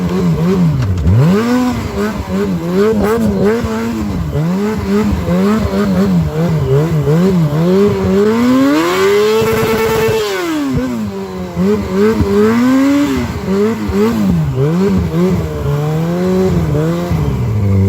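A sport motorcycle engine revs loud and close while riding through snowdrifts, its pitch rising and falling in repeated swells with a long climbing rev in the middle, steady and unbroken with no talking.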